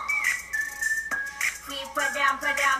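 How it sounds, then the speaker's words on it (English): A bright whistled melody of short rising and falling phrases plays over music in a song, clear and close, with several quick notes repeating. "This like whistle instrumental part too."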